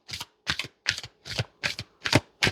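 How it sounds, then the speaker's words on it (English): Tarot cards are shuffled in seven quick, evenly spaced riffling bursts close to the microphone, each a short papery flutter separated by brief pauses. "I don't know why I'm shuffling the rest of them anyway"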